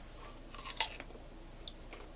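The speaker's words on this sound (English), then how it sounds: "Yeah, hear the crunch." A crisp bite into a fresh persimmon gives one sharp crunch, then softer chewing crunches follow. The sound is close-up and quiet, with no one talking.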